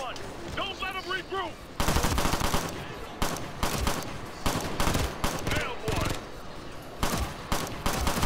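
Gunfire in the Ghost Recon Future Soldier shooter game: rapid automatic bursts and single cracking shots, loud and dense, following a brief stretch of someone talking.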